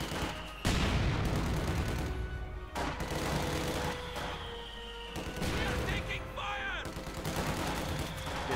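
Mortar blasts and gunfire from a Company of Heroes 2 battle, with dense bursts of shots and booms throughout under a voice commentating.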